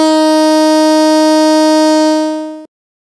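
A loud, steady electronic Tucano alarm siren tone, K1 setting, holds one harsh buzzing pitch for about two and a half seconds, then cuts off abruptly, with no talking.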